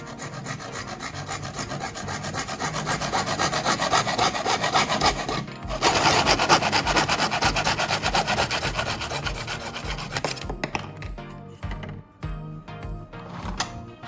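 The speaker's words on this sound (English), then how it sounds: "Next, I'm going to try cutting through a piece of PVC pipe to see how the saw handles different materials." A hand saw cuts through PVC pipe in fast, continuous rasping strokes, loud and close, with a brief pause partway through and the strokes thinning out toward the end.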